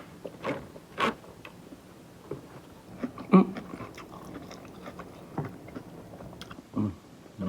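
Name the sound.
crunching on iceberg lettuce salad while eating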